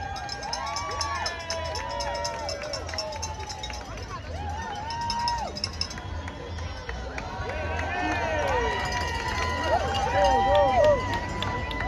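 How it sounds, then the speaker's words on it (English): Crowd cheering and clapping for runners at a marathon, spread out and somewhat distant, with whoops and shouts rising in waves over a steady low rumble, growing louder toward the end. "On continue avec les applaudissements et les encouragements, s'il vous plaît."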